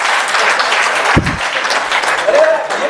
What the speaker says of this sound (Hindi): तालियां हो जाए कमलेश भाई के लिए।